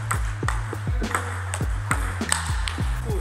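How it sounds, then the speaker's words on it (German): A table tennis ball strikes a paddle faced with Victas V20 Double Extra rubber in a quick close-to-table blocking rally. Crisp, ringing pings land about twice a second, each one close and sharp. "wo der ankommende Ball förmlich ins Gummi gepresst und unter sattem Sound zurückgeklatscht wird"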